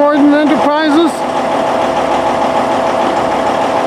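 A Freightliner cab-over twin-steer four-axle rigid truck fitted with a Palfinger knuckleboom crane idles steadily with a low, even engine rumble, while a voice talks over the first second.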